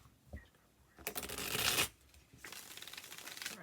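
Two bursts of crisp, riffling card shuffles, a short one followed by a longer, rattling shuffle, close and fairly quiet.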